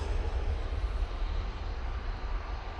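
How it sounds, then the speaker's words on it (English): An EasyJet airliner rolling for takeoff at Manchester Airport, a loud, steady low-pitched jet engine roar with a rumbling, wavering texture, heard briefly and without talk. "EasyJet now on the roll."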